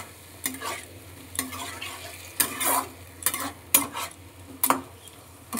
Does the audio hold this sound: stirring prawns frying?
yes